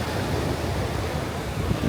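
Sea waves breaking on the coast at Marbella, Andalusia, with steady wind buffeting the microphone; a continuous, loud, close wash of surf and gusts with no voices.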